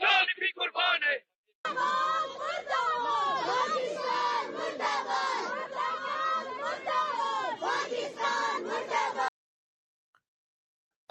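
A large crowd chants political slogans in loud, rhythmic unison, voices rising and falling together for several seconds before stopping abruptly into silence.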